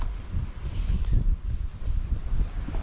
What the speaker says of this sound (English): Still pretty windy out here.